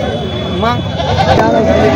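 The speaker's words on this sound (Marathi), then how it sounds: "आपल्या जवळ बाजारामध्ये खूप चांगल्या शेळ्या आलेल्या आहेत" Goats bleat at a busy weekly goat market in Jawala, wavering cries over a loud crowd babble and nearby talk.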